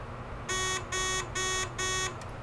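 A Simplex 4002 fire alarm panel sounds four evenly spaced, loud electronic beeps in a steady rhythm over a low background hum, with no talk.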